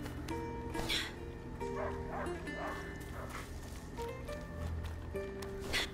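A dog barks and yips in the video game A Plague Tale: Innocence, several short bursts scattered across the stretch at moderate distance beneath a musical score and ambient game sound.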